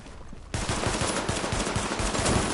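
Rapid pistol gunfire in The Division video game, a sudden dense burst of repeated shots that starts abruptly and continues loud and close to the end.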